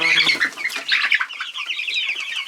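Young Rhode Island Red chicks cheep and cluck in a close, busy chorus of high, rapid peeps, some overlapping, with a brief flutter early on.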